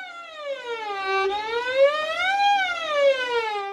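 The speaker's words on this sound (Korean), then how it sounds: "현악기의 글리산도는 우리가 흔히 알고 있는 사이렌 소리라고 할 수 있습니다" A bowed string instrument plays a smooth glissando, its clear tone sliding down and up in pitch like a siren. The sound is close and steady, with no talk.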